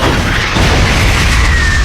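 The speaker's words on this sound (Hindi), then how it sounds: "बिना रोके गोली चलाते रहो।" Heavy gunfire in a dubbed Hollywood action film, a dense, loud, continuous low booming barrage with no pauses.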